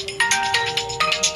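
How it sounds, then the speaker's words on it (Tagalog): A cellphone alarm rings close by, a bright repeating electronic melody of quick pulsing notes, loud and alone. "Nag-aalam na ang cellphone."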